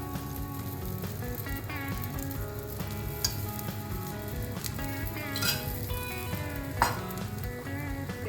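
Rice batter poured onto a hot pan sizzles loudly and continuously, with crackling bursts and light clinks under faint background music; no speech.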